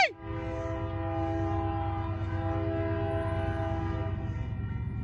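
A Union Pacific freight train passes close by, its horn blaring in a long, loud sustained blast over the steady rumble of the moving train.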